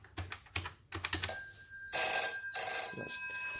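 An escape room telephone system rings with proper UK tones on a modern phone after dialling: rapid clicks and key presses, then a loud, steady electronic ring in two bursts close by.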